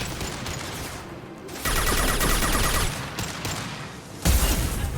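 Gunfire and rocket blasts in the sci-fi shooter game Mass Effect 2, a dense, continuous barrage of rapid shots and bursts with a heavier blast near the end, loud and sustained throughout.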